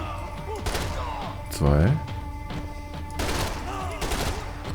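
Gunfire in the Max Payne 3 video game: a few sharp shots and a short burst ring out amid in-game sounds, with someone talking over the action.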